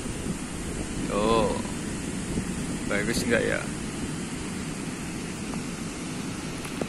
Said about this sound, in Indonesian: Mungkin suara angin kedengeran ya.